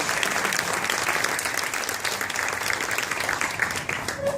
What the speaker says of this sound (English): please join me again in giving a round of applause to Miss Lucy Hall